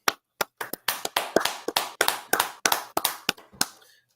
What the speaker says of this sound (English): let's clap it up one time